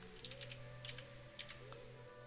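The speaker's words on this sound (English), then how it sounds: "Kind of use the arrow keys to adjust it a little bit." Several separate computer keyboard keypresses, arrow keys tapped one at a time at an uneven pace in a quiet room, each a short crisp click over a low steady hum.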